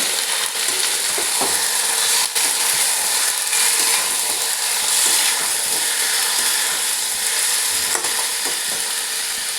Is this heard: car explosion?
no